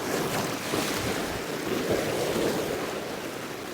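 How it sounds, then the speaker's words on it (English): River waves slap and splash against an AquaGlide Chelan 120 inflatable kayak, a loud continuous wash of churning water mixed with wind buffeting the microphone, close and unbroken, no voices. "Oh, some spicy waves."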